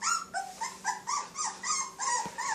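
Pitbull puppies in a litter whimpering and whining close up, a rapid series of about eight high, rising-and-falling cries in quick succession with soft growly undertones.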